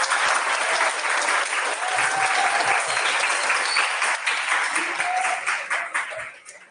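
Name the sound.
audience applause after lecture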